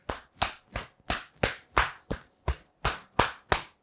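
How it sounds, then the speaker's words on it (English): A hand slaps against the inside of the opposite shoulder in a self-massage routine, about a dozen sharp, close claps in a steady, even rhythm, each with a short ring-off and no talking. "Keep clapping the inside of the shoulder."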